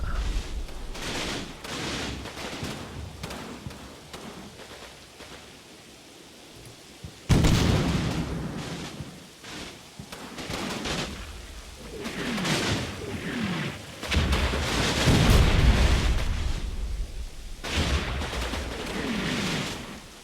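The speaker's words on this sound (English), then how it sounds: "I think that might be actually our mortar barrage hitting out in the middle of nowhere" Mortar barrage from Combat Mission: Battle for Normandy, in the Scottish Corridor mission, landing as repeated distant booms and crackling blasts in uneven bursts over a continuous rumbling battlefield bed.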